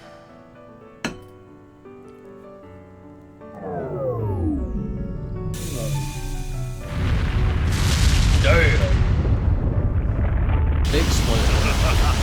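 A big explosion erupts in the video game Trails through Daybreak, a sudden roar that swells into a loud, sustained rumbling blast after a sharp hit and a descending whine, with a voice briefly heard.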